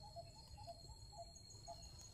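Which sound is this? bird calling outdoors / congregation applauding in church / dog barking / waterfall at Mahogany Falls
bird calling outdoors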